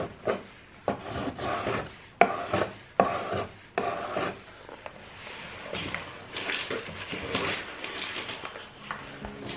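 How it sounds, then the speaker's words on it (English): A hand scraper is drawn repeatedly across a surface at the start of a renovation project, giving close, rough rasping strokes in an uneven rhythm, some sharp and separate, others blending into continuous scraping. "And then I've got this scraper here to take off the"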